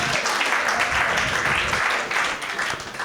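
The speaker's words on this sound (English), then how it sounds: "you can clap it up for that" Dense audience applause for a comedian at a stand-up comedy show, a steady wash of clapping filling the whole stretch, loud and close, tapering slightly near the end.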